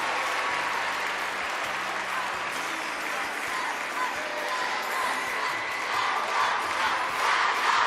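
Sustained applause from a large arena crowd greeting Italian gymnast Carlotta Ferlito at a university games gymnastics final, loud and steady throughout with cheers rising near the end and faint voices in the mix.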